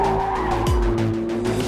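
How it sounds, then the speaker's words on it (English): A naturally aspirated V8 in a plug-in hybrid sports car holds a loud, steady, close engine drone with a brief rising tire-squeal sweep partway through. "And now we have the engine. Naturally aspirated V8, 608 horsepower."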